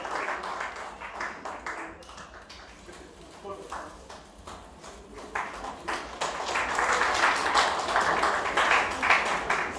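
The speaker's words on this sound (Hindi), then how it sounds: "जोरदार तालियां" Loud crowd clapping that swells and grows denser toward the end, with scattered claps and some chatter underneath.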